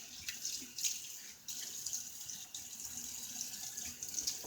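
Tap water running into a sink to rinse a 3D printed injector-style razor during a shave, a steady faint hiss of flowing water with small splashes and clinks, no speech.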